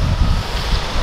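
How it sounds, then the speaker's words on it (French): Steady wind buffets the microphone from inside or beside a truck, a continuous low rumbling roar with gusty swells and no pauses throughout. "Ah il y a du vent."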